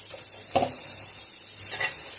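Onions fry in a pan with ginger garlic paste and turmeric for a carrot fry, a soft steady sizzle with one or two brief stirring scrapes, close and quiet with no talking.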